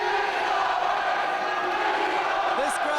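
Wrestling arena crowd cheering for the champion, a sustained loud roar with scattered whoops and yells.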